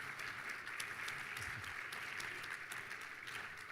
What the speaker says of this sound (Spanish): felicidades por estar con nosotros y pido un aplauso para Gerardo.